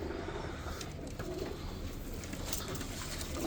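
Baghdadi pigeons coo softly in a loft, low repeated murmuring calls under a steady hiss of background noise, with no voices.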